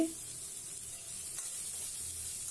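Onion, cumin seeds, coriander powder and red chili powder sizzling in a pan as they are stirred and fried for a cauliflower and egg curry, a steady close hiss with soft scraping throughout.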